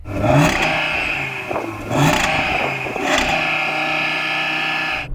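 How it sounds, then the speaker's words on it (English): A car engine revs up twice in quick bursts, whirring loudly then settling back to a steady idle between pushes. "Yanni, rev up your car."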